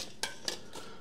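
An ultralight camping cook pot and its lid are handled, giving three quick, light metallic clinks and scrapes close by at a quiet level, with no talking.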